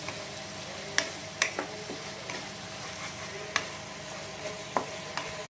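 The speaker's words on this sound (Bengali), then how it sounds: "আর এটা এখন পেঁয়াজের সাথে ততক্ষণ আমি ভাজবো যতক্ষণ না আদার কাঁচা গন্ধটা চলে যায়" Ginger paste fries with onions in oil for a chicken curry, a continuous soft sizzle broken by several sharp clicks of a utensil stirring against the pan, close and with no talking.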